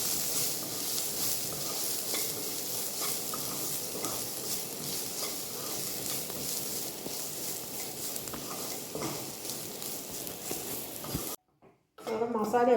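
Spices and masala fry in a pan with a constant, dense sizzle as they are stirred, faint scraping strokes mixing in before the sound cuts off briefly near the end.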